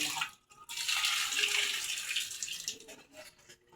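Water is poured out at close range in a steady, splashing hiss that lasts about two seconds, trailing off with a few softer splashes. The sound is fairly quiet and has no talk over it.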